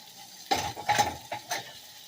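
Hamburger steaks in a frying pan are flipped with a few scraping, clattering turns of a utensil over a soft, low sizzle, close by and fairly quiet.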